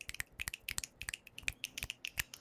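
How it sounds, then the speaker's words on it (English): Several people snap their fingers during an online Dungeons & Dragons stream, producing a quick, irregular flurry of sharp, close, fairly quiet snaps that overlap in rapid succession with no talk. "Let's snap for the wonderful Blackfoot Ferret"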